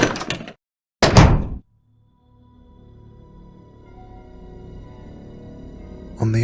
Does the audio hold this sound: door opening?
yes